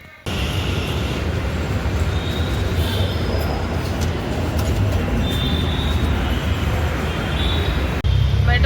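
A Bangalore metro train running on the Magadi Road line, heard from inside a car as a steady loud rumble with a faint high whine above it.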